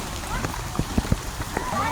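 Heavy, continuous rain patters on a surface with scattered drops and splashes, while a voice speaks over it during a typhoon with flooding in Caloocan City.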